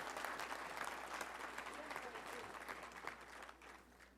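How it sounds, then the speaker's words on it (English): Audience applause at a Little Rock Touchdown Club luncheon, a steady wash of clapping from a seated crowd in a hall, moderately distant and fading slightly toward the end. "Let's give these folks a round of applause for being here."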